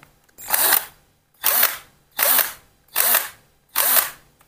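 A 12-volt cordless drill whirs in five short bursts, each spinning up and stopping, with brief silent gaps between them, close and clear.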